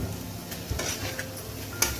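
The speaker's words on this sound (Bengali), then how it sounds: "আমি নাড়াচাড়া করে মোচাটা ভেজে নেবো" Banana flower being stirred and fried in a pan, a steady close sizzle with occasional scraping stirs and a few soft clinks of a utensil against the pan.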